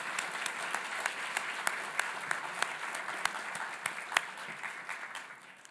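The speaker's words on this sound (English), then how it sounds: "let's give them a round of applause" Applause at a university leadership awards ceremony, steady but fairly soft and distant, with scattered sharper claps standing out and tapering off at the end.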